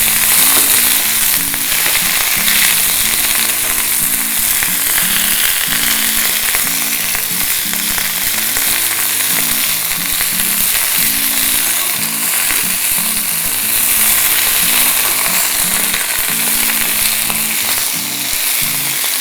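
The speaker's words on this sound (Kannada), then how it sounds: "ಇದನ್ನು ಚೆನ್ನಾಗಿ ಹುರ್ಕೊಳ್ಳೋಣ ಇದರ ಹಸಿ ವಾಸನೆ ಸಂಪೂರ್ಣ ಹೋಗೋ ಹಾಗೆ ಫ್ರೈ ಮಾಡ್ಕೊಳ್ಬೇಕು" Ingredients fry loudly in a pan, a dense, continuous sizzle with stirring scrapes running underneath throughout, and no one speaks.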